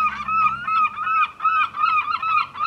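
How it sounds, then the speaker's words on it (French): Seagulls by the sea at night call in repeated, loud, nasal honking cries, several overlapping close by in an uneven rhythm, with no talk. "Et vraiment les mouettes, même la nuit, elles sont là."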